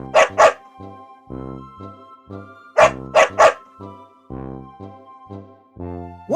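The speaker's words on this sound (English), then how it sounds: "it was a dog." A dog barks in short, loud, close bursts, paired sharp barks repeating among quieter tonal yips and whines.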